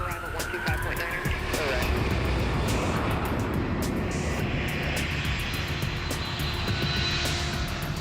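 Heavy C-5 military cargo jet departing, a loud broad continuous turbine roar that holds steady throughout, with faint radio voices mixed in.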